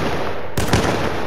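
A single sharp gunshot in a duos match of an online shooter, loud and close, with a broad blast and a brief echoing tail over steady game background noise.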